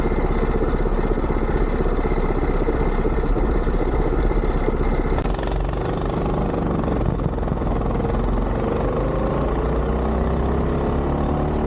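A Coleman CT200 minibike with a Duromax 208 engine and a deleted governor drones loudly as it accelerates, a steady buzzing engine roar with rising pitch, close and continuous with no voices.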